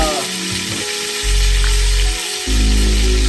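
Steak and garlic fry in melting butter in a pan, a loud, steady sizzle that swells in two bursts as food hits or is moved in the fat, with no talking.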